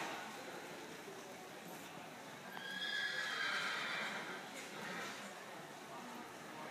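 Horses walking, with a clear neigh rising in the middle against a faint, airy outdoor background at a distance; no talk is heard during the whinny.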